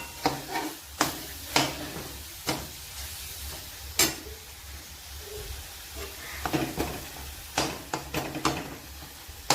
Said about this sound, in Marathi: आपण त्यामध्ये थोडीशी कोथिंबीर घालून घेऊयात आणि चांगलं फ्राय करून घेऊयात।